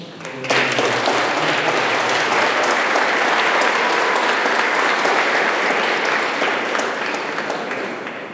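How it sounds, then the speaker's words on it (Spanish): Wedding guests in a rural church setting in Oaxaca break into sustained applause, a loud dense wash of clapping that starts abruptly and holds steady for several seconds before easing slightly at the end. "Un aplauso."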